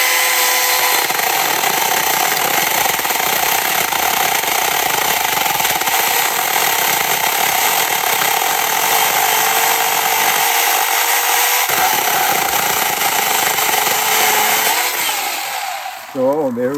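Chainsaw cutting through a big log into firewood, a loud continuous engine whine with steady buzzing that runs nearly the whole time, close up, dropping off at the very end.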